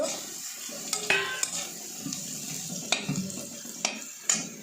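Potatoes fried and stirred in a pan at home for a khichuri dinner, a soft steady sizzle punctuated by several sharp metallic scrapes and clinks of the spatula against the pan, with no talking.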